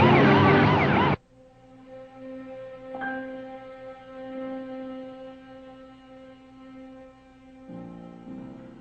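A police car siren wails briefly at the start, loud and close, then cuts off, leaving a low steady engine hum with tonal whine, before a short siren burst returns near the end.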